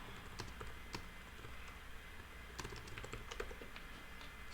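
A computer keyboard types the title of a new post, soft scattered key taps in short bursts buried under a steady, loud broadband hiss.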